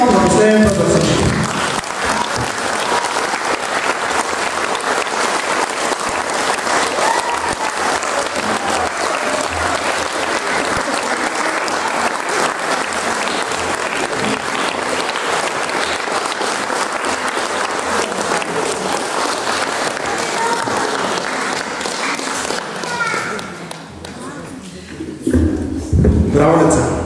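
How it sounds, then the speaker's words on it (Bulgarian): Loud, sustained applause from an audience for the child cast of a children's Wind in the Willows stage musical with live music, filling the room steadily for over twenty seconds before tapering off, with a voice briefly heard near the end. "Аплодисменти отново на последния път за всички."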